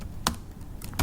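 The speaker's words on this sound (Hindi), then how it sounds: "यह फार्मूला मैं यहाँ टाइप भी कर देता हूँ।" Fingers tap a computer keyboard while entering a spreadsheet formula, a few quick, close keystrokes with brief pauses between them and no talk.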